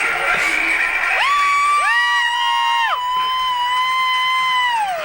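A young fan at a live wrestling show lets out long, high-pitched screams of excitement, several rising and falling wails in a row, loud and close over a roaring arena crowd.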